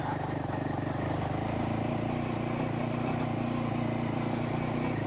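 A Royal Enfield Himalayan motorcycle rides in first gear with jerky throttle, its engine a loud, continuous close-up drone under wind rumble.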